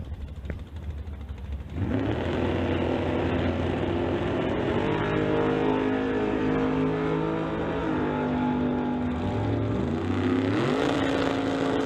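Two street-legal drag cars, a Chevy Nova and a Chevy II, race down a quarter-mile strip at Mission Raceway, engines roaring loud and steady after launch and holding a sustained howl to the end, with no talk.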